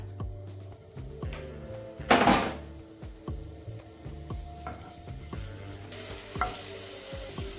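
Chopped ginger and garlic frying in about a tablespoon of white oil for an aloo kachori filling, a steady close sizzle with scattered stirring clicks and scrapes and one louder burst of spitting midway.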